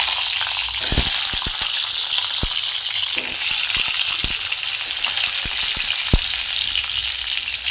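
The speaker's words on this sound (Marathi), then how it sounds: "आपण तेलात अंडे फ्राय करून घ्यायचे" Eggs sizzle loudly in hot oil, a constant bright hiss broken by sharp pops and crackles scattered throughout.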